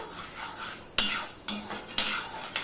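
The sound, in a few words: stirring fried moong dal in a hot wok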